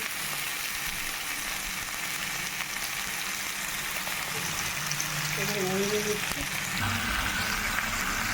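Katla fish head fries in hot oil in a pan for a gourd curry with prawns, a soft, steady sizzle with faint stirring, under quiet talk.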